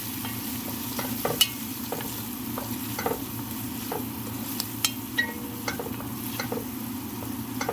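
Garlic and chopped tomato fry in a pan, a steady close sizzle broken by sharp spatula clicks and scrapes against the metal throughout, with no talking.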